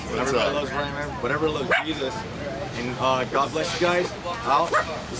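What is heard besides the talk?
dog barking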